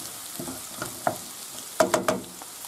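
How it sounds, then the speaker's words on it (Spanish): Rice grains are stirred into a frying seafood base, giving a low background sizzle with scattered scrapes and a quick run of louder spoon strokes against the pan. "ahora echamos los granitos de arroz. Lo removemos bien"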